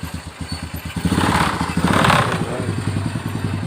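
Motorcycle engine running while riding, recorded on a GoPro Hero 8 Black, a steady pulsing mid-pitched thrum that swells and stays loud and close throughout, with no talk over it.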